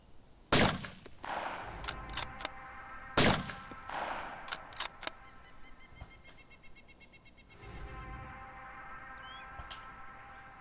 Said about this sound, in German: Schießt du mit der M24?